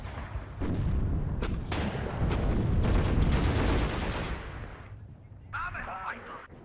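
Heavy 122 mm artillery from the WARNO wargame booms again and again, loud and close, in a dense barrage of thuds and rumbling blasts that fades toward the end. A voice speaks briefly over the last moments.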